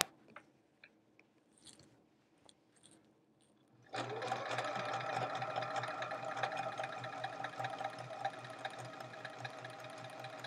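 A sewing machine quilts a chevron-pattern quilt: after a few soft handling clicks it starts up and runs in a steady, continuous mechanical whir with fine rapid stitching ticks, close and clear, with no talk.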